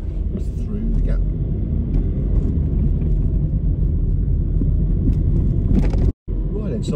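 A car creeping along slowly in first gear on a road, steady low engine rumble and road noise throughout, close and continuous, with a brief dropout near the end.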